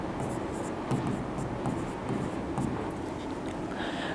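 Pen scratches across paper in short strokes while working a Class 10 triangles geometry problem, soft close scribbling in uneven bursts beneath a low background hum.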